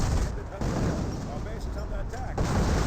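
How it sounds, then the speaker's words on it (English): A 25-pounder artillery barrage in the video game Company of Heroes: dense thumping blasts and rattling fire sound continuously across the battlefield, with a commentator talking over them. "Another 25-pounder barrage there."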